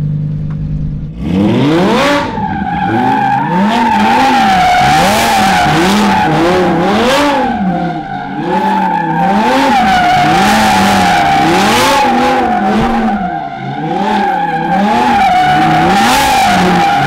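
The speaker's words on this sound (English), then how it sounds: "he's about to drift around this car" A taxi car drifting in a driveway, its tires skidding and squealing in long wavering howls over a loud, steadily revving engine, close and continuous for most of the clip.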